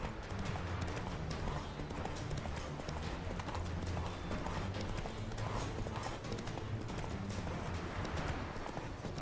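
Horse hooves galloping in The Witcher 3, a fast continuous clip-clop drumming that stays loud and dense throughout, with game ambience mixed in.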